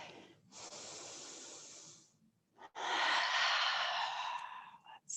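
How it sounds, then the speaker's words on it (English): A deep breath taken while lying on the back during a yoga power flow: two long, loud airy breaths, a drawn-in inhale and then a fuller, louder exhale, heard close and alone without talk. "Take a big breath here on your back."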